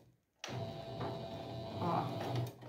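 A sewing machine runs steadily, stitching two fabric pieces together for a two-color patchwork appliqué placemat, starting abruptly after a brief silence and humming on at an even, close level.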